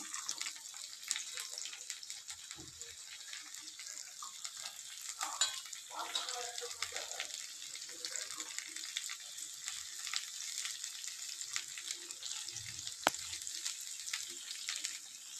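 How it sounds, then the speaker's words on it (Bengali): Peas, tomatoes and potatoes frying in a wok, a steady moderate sizzle with occasional stirring scrapes and clinks, continuous throughout with no talking. "তো কড়াইশুঁটি, টমেটো, আলুগুলোকে বেশ ভালো করে একটু ভেজে নেবো"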